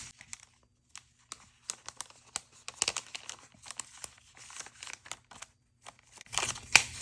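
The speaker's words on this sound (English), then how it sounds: "you can put it right inside the clear envelope" A handmade paper card slid into a clear plastic envelope: close, sparse crinkles and soft rustling taps, with a louder burst of crackling plastic at the end.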